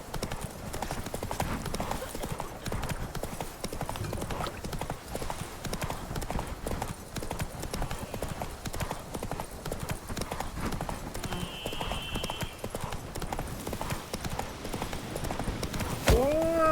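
Horse hooves clip-clop in a steady rhythm throughout a ride in The Witcher 3 video game, moderately loud and mixed with game sounds and a voice speaking, with a brief whinny-like tone near the end.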